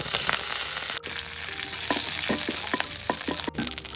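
Mustard seeds and curry leaves sizzle steadily in two spoons of hot coconut oil for a prawn thoran, with bright crackling and scattered sharp pops from the seeds, close and continuous with no talking.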